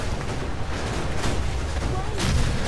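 Gunfire and heavy booms from the video game Fallout 4, a dense, continuous barrage of shots and explosive rumble throughout, with voices talking over the combat.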